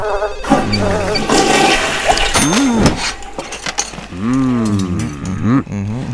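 A toilet flushes in The Sims 1 video game, a loud rushing gurgle with swirling, warbling water that swells and then drains away.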